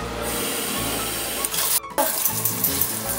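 Running water for bathing huskies in a new house, a dense continuous rushing spray near the microphone, cut by a brief pause in the middle before flowing on, with no voices.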